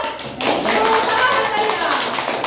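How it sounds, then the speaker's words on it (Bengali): A group of young children clapping their hands together during a classroom circle time, a dense, close patter of claps that starts abruptly and carries on steadily. "তা সবাই একসাথে হাততালি দাও।"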